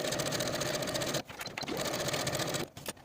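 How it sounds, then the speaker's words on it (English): A sewing machine runs a continuous side seam on a York top in a loud, steady mechanical drone, stopping briefly once and then resuming before cutting off at the end. "Now I'm ready to sew from the bottom of the garment to the bottom of the sleeve in one continuous seam"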